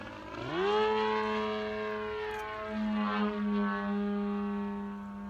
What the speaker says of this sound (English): Yeah, it definitely is an RC plane.